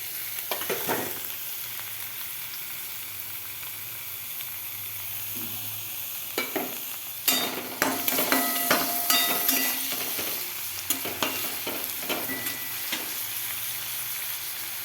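Chopped garlic frying in hot oil with browned onion for a mutton curry, a steady loud sizzle with spatula scrapes and clacks against the pan that grow busier midway, close up and with no talking.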